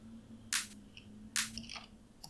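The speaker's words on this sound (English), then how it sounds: "So we're going with this bright clap here" Bright clap sample from a progressive psytrance drop, two sharp isolated hits with short tails, fairly quiet over a faint low hum.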